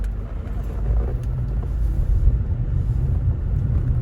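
Steady low rumble of road traffic passing in a Jamaican neighbourhood, continuous engine and tyre noise close by with no distinct individual vehicles standing out.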